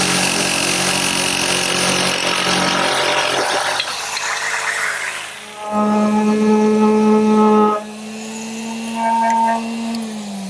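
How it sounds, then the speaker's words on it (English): A handheld jigsaw cuts a wood blank for a Shaker wall clock, its loud buzzing motor running through the first few seconds, then a lower idling whine with harmonic tones and a rattle as the cut winds down. "I'm going to use my handheld jigsaw to make both the straight and the curved cuts."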